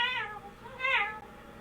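A hand-cranked siren gives two rising, wavering wails that sound much like a cat's meow, each swelling and fading in turn, close and fairly loud.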